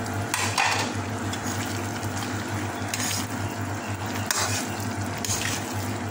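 Carioca mixture of sticky fried dough balls being stirred in a pan until coated, with soft scraping, light clinks of a utensil against cookware and a faint sizzle running underneath steadily.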